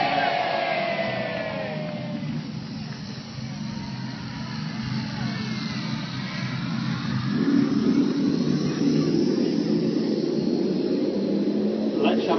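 Model RAF aircraft dive on an enemy battleship at an outdoor mock sea battle on a boating lake, their engine drone swelling and growing louder over a continuous crowd murmur while an announcer talks.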